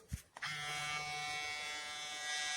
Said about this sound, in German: und der Rasierer beginnt zu laufen